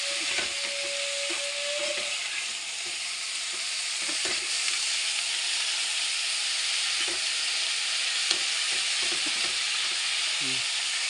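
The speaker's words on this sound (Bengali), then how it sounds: "নুন দিয়ে দিলে সবজিটা তাড়াতাড়ি ভাজা হয়ে যাবে।" Steady loud sizzling of boiled broccoli and other vegetables frying with salt in a pan, a continuous hiss with occasional stirring clatter and no talk.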